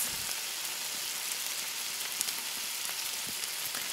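Sweet peppers and carrots sizzling in a hot pan, a loud, steady hiss of frying that stays close and constant with small crackles throughout.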